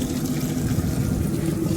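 A steady, loud rush of spraying water splashing onto a fishing boat's deck as it is washed, continuous and close throughout.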